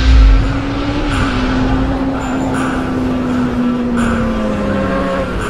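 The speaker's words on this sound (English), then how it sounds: "Top fuel motorcycle, here we go." Top fuel drag racing motorcycle launching at a South Georgia drag strip, a steady loud engine drone holding pitch and slowly dropping, heard alone from a distance.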